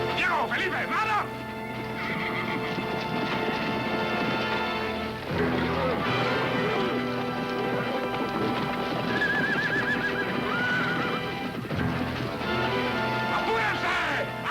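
Several horses whinny and neigh loudly while hooves clip-clop and pound at a gallop, with shouting voices and a swelling orchestral score filling the scene as riders mount up to chase a wild stallion.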